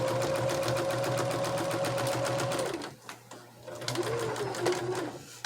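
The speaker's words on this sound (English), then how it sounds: "And I'm making about 1/4 of an inch seam." A sewing machine stitching a quarter-inch seam on a small pocket prayer quilt, a close, steady whirring hum that runs for about three seconds, pauses briefly, then starts again.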